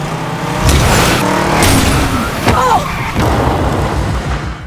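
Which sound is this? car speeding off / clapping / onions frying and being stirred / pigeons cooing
car speeding off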